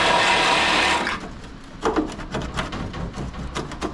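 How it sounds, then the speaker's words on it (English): A small Sawzall cutting out a tack weld on the body of a right-hand-drive S14 240SX, a harsh buzzing burst that stops after about a second, followed by rapid rattling strokes at close range. "I'm gonna take this little Sawzall, try to stick it in there, and cut that stuff out."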